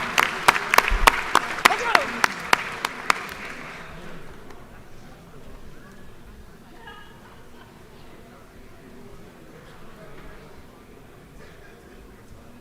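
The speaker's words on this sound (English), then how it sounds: "So please give them a round of applause." A short burst of sharp, spaced hand claps in a legislative chamber, then a quiet room with low murmuring.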